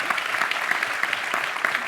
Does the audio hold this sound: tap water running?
no